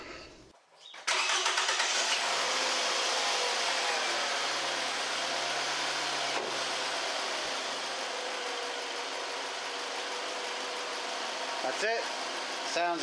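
A 2008 Toyota RAV4 with the 2.4L 2AZ-FE four-cylinder, fresh from a spark plug change, cranks briefly and catches, then settles into a steady, close idle that runs on with little change.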